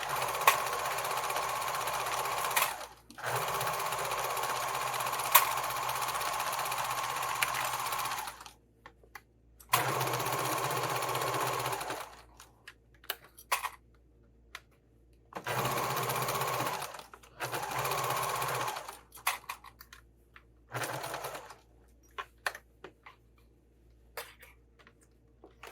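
Sewing machine stitching a 5/8 inch seam allowance on a fabric sling, running in several steady bursts of even, close whirring that stop and restart with quiet gaps between them.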